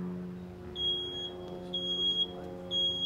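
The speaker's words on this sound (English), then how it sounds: "the smoke detector is telling them to get out" A smoke detector sounds repeated high, piercing beeps in short bursts during a live burn of old furniture, over a steady low hum.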